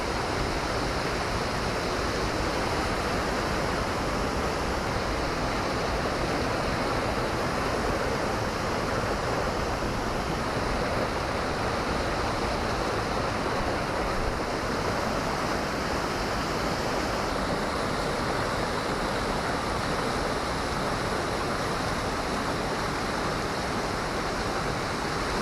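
Steady, dense roar of a waterfall in Oregon, loud and close, continuing unbroken with no voices, spray reaching the listener.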